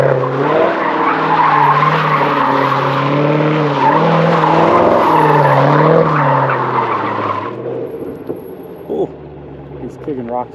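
A 1UZ-FE V8-swapped Mitsubishi Starion slides with loud, sustained tire squeal and skidding over a roaring engine, up close, then fades to quieter rumbles and a few voices talking.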